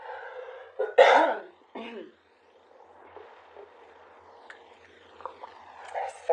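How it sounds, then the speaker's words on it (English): A person clears their throat with a loud, rasping burst followed by a shorter second rasp, then quieter breathing and faint rustling close by. "I had to clear my throat for a while"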